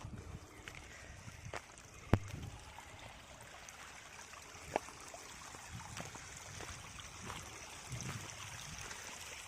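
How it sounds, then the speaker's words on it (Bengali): Water gushes softly and steadily through a freshly dug earthen channel into a village pond, a faint continuous trickle with a couple of brief knocks. "পানির আওয়াজ দেখেন কত সুন্দর লাগছে"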